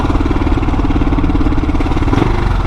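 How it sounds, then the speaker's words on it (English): A motorcycle engine rumbles loudly and close by as it passes in California traffic, with a throbbing, steady idle-like drone and a brief rise near the end. "They believe in their motorcycles being able to lane split."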